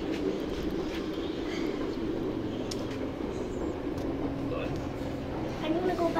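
Inside a coupled Class 320 electric train running from Coatbridge Central to Hamilton Central, a steady low rumble and hum of wheels and motors carries on throughout, with faint rattles and possible murmured voices.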